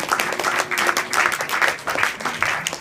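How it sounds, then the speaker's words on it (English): An audience at a chemistry show applauds, dense, steady clapping from many hands that carries through the whole moment at a fairly even level. "let's give another round of applause"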